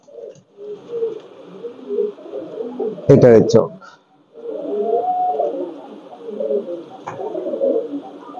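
Pakistani Teddy pigeons in a loft give low, soft coos, a steady murmur running under a man's speech, broken near the middle by a brief loud handling noise.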